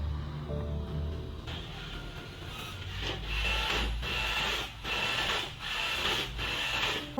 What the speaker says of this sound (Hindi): प्रिंटर से हम प्रिंटिंग कैसे करते हैं